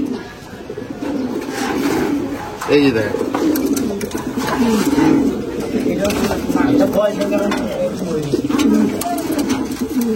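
Tournament game pigeons at a keeper's home coo repeatedly, with low, throaty, rolling calls close by, while someone talks over them for much of the time.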